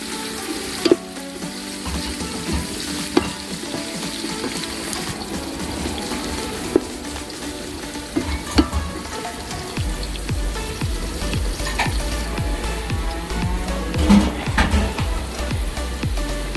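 Mixed vegetables cook in a pan with a steady, fairly loud sizzle, occasional clacks of a utensil, and a low rumble building through the second half.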